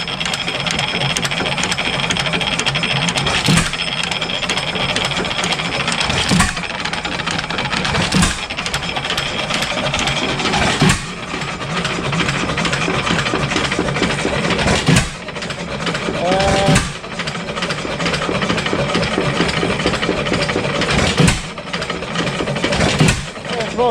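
A 7HP Stickney hit-and-miss engine runs loudly and up close, with a steady mechanical clatter broken by periodic sharp firing bangs every few seconds, while someone talks over it.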